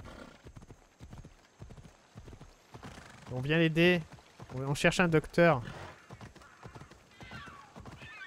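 Horse hooves clip-clop steadily in Assassin's Creed Odyssey while people speak over them, with occasional louder voiced bursts.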